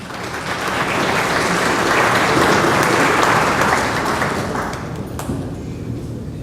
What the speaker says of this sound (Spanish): le damos la bienvenida con un caluroso aplauso